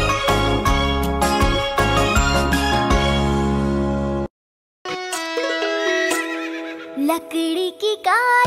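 A horse whinnies in a musical children's rhyme about a galloping wooden horse, a loud neigh sitting within bright, dense music with jingles, a short silent gap, then more tonal calls.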